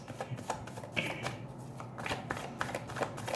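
A deck of tarot cards is shuffled by hand close up, giving quick, soft riffling flutters and light slaps in an irregular rhythm, with no talking.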